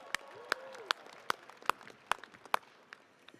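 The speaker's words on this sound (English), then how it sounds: "Another round of applause for them," Applause rises at a university undergraduate commencement ceremony. Only a handful of sharp, separate claps are heard, falling in a steady rhythm close by over a quiet room.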